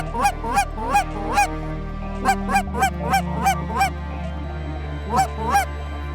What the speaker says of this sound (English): The lessers, the snow geese, the ducks, they're all feeding together.